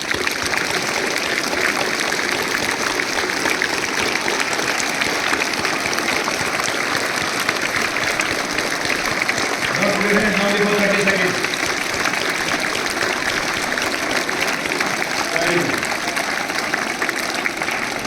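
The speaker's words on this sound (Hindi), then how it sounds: "तो इन सब बच्चों के लिए हम सब बच्चे बहुत जोर से ताली बजाएंगे, लगभग 30 सेकेंड" Sustained, dense applause from a crowd of children at a Kargil Vijay Diwas school celebration, a steady roar of clapping that carries on throughout, with brief voices rising midway.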